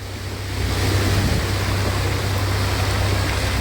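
Floodwater rushes in a steady, loud broadband roar around a stopped truck on a flooded road in Bocaue, Bulacan, with a low engine hum running underneath throughout.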